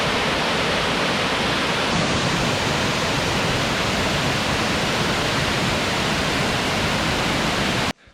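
A large waterfall in Tasmania roars as a loud, dense, unbroken wash of falling water heard up close, cutting off abruptly near the end.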